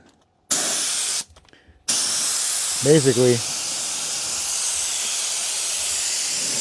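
Airbrush-style spray gun hissing into carved grooves of a photo carving, loud continuous spray bursts with a short pause, then steady hiss under a brief spoken word.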